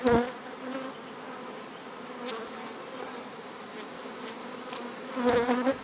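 Honeybees buzz steadily and densely around heavy beehive frames in an apiary, a continuous close insect drone, louder near the start and end, with no talking.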